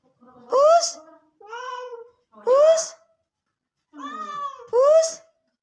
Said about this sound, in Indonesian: petugas damkar di Lumajang mengevakuasi seekor kucing tercebur ke sumur dengan kedalaman 10 meter